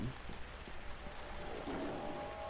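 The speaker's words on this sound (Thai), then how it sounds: "ฝนตกหนักมาก" A heavy rainstorm in the video game Into The Dead 2, a dense steady roar of rain pouring onto surfaces with a low rumble underneath, filling the whole stretch without any voices.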